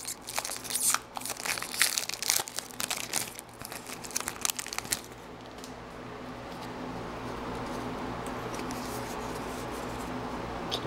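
A Reign of Fire trading card pack being torn open by hand, a close series of crinkly foil rips and crumples over the first five seconds, then settling into quieter low noise.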